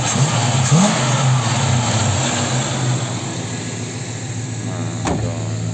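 Chevrolet Impala engine running and revving, a loud steady roar that climbs in pitch early on and then settles to a high sustained drone, heard close with no talking.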